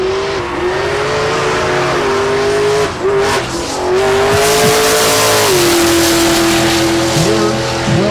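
Cadillac CTS-V and Fox-body Mustang drag racing side by side at a raceway, engines roaring loud and near with sustained high revs, pitch shifts at gear changes and a brief dip before pulling away.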